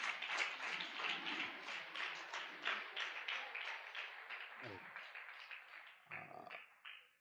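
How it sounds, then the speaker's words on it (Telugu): An audience claps steadily together, a dense patter of hands that tapers off near the end, recorded faint and from a distance. "మన మధ్యలోకి వచ్చినటువంటి అన్న వాళ్ళకి బిగ్ క్లాప్స్ కొడదాం, అక్క వాళ్ళకి కూడా బిగ్ క్లాప్స్ కొడదాం"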